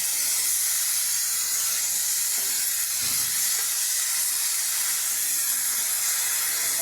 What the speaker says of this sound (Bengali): চাল ডাল ভাজা ভাজা করে নিচ্ছি